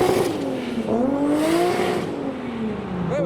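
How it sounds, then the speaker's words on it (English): Toyota Supra doing a burnout and then driving off: a loud engine revving with rising and falling pitch and tyres squealing over a few seconds, then the engine climbing again as the car pulls away. "This is the calmest burnout I've ever seen"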